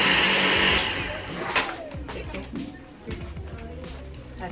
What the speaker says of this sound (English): I'm gonna vacuum just in case